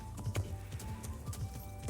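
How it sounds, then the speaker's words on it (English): Horse hooves clip-clop at a steady riding gait in the Kingdom Come Deliverance video game, a rhythmic, fairly close pattern of soft thuds. "riding the horse"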